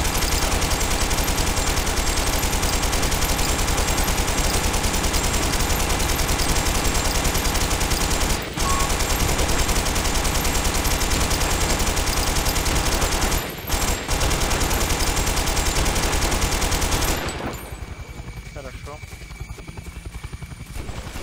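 Loud, dense gunfire rattles almost nonstop in a busy game soundscape, with brief dips, then drops off sharply to quieter background near the end.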